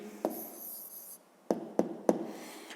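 A pen or pencil writing out a math answer by hand: a soft scratchy stroke, then three short, distinct taps or strokes in quick succession, close up and quiet.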